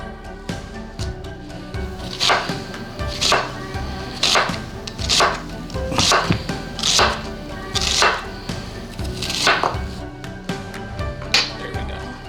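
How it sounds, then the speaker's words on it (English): A knife chopping a sweet yellow onion, with crisp, close cuts landing in a steady rhythm of roughly one per second over a low room hum. "When you're cutting an onion"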